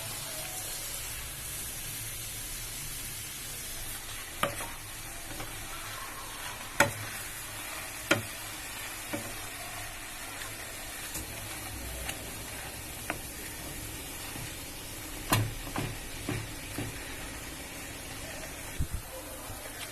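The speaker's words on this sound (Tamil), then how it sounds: "பாலை ஊற்றி நல்லா கிண்டிட்டே இருக்கணும்" Pumpkin halwa being stirred in a pan after milk is poured in, giving a steady low sizzle with scattered clicks and scrapes of the spoon against the pan, moderately quiet throughout.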